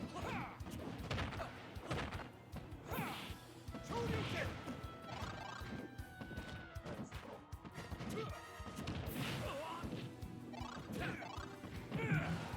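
Ken's forward air attacks repeatedly hit Terry in Super Smash Bros., a rapid series of sharp smacking and crashing impacts with whooshes, running throughout over busy game noise.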